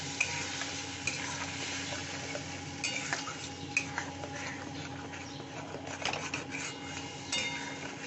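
Onion, ginger and garlic paste sautéed in hot oil with a pinch of turmeric in a pan, giving a steady close sizzle with scraping and stirring of a spoon against the metal throughout.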